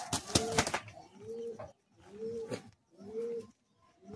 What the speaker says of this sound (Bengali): চোখের পায়রা